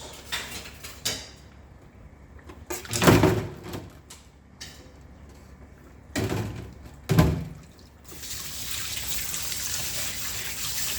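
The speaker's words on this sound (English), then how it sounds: "Dropping all the knives. Then we rinse those." Knives dropped and rinsed while washing dishes: a few metallic clatters and bumps, then running tap water, close and quiet with no talk.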